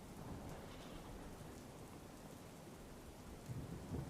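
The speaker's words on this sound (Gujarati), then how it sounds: "બાબરા શહેરમાં ધોધમાર વરસાદ વરસ્યો" Heavy rain pouring down in Babra town, Amreli, a steady dense roar of downpour filling the scene at a constant level, with a few slightly louder splashes near the end and no voices.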